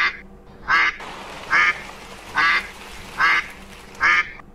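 A voice imitates a duck, giving five nasal quacks at a steady, even pace, each one short and loud, with a quiet room behind them.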